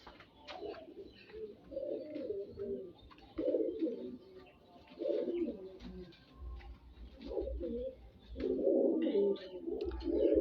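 Pigeons coo in low, throaty rolling phrases among the temple ruins of Phimai, Thailand, repeating every couple of seconds, with faint chirps and a soft background hum.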